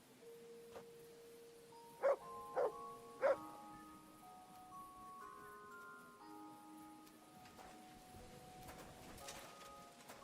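Three short, sharp barks ring out in quick succession from a nearby dog in the medieval game Kingdom Come: Deliverance 2, set over quiet ambient music and background sounds.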